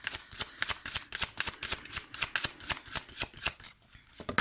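Tarot cards are shuffled close by in a steady run of about fifteen quick riffling snaps, slowing near the end, with no talking.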